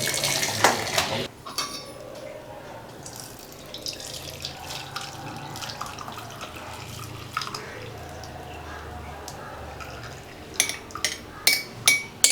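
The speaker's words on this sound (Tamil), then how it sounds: "இதை நல்லா ஒரு அகலமான பாத்திரத்தில் லைட்டாக ஒரு டைம் மாற்றிட்டு நம்ம வடிச்சிடலாம்" Masala tea poured and strained into a wide vessel in a home kitchen, a steady liquid trickle running throughout with light clinks of metal utensils and sharper clatters near the end.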